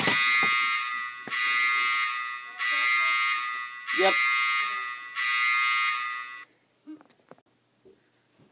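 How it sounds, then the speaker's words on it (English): Alarm on LEGO set 8634 Turbocar Chase, a loud electronic buzzing tone sounding in five repeated bursts of about a second each, followed by quiet handling noises and a brief word spoken. "That button is going to trigger off an alarm, which is really cool."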